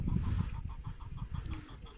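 Chickens cluck repeatedly in a steady, busy chorus from a coop in a village garden beside an old stone house, close and fairly loud throughout.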